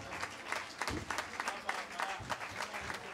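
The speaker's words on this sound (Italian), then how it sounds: "Signori, un grande applauso" An audience claps for a folk musician at an Italian filuzzi music event, a modest, fairly quiet patter of hands with uneven bursts across a few seconds, somewhat distant.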